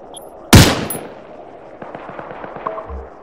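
A single sharp, loud gunshot rings out in the video game Arma III, followed by a tail of fainter echoing cracks and small clicks. No one speaks.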